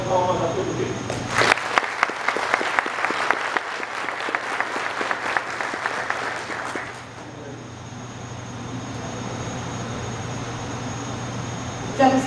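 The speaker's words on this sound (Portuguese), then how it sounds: "E peço uma salva de palmas a todos eles." Crisp, dense applause at a solemn military brigade ceremony for a centenary, steady clapping for several seconds that stops abruptly, leaving a low hum and quiet room tone.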